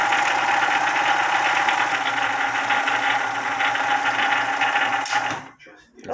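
A home sewing machine winds thread onto its bobbin, the motor whirring at a steady pitch for about five seconds before cutting off abruptly into a brief quiet.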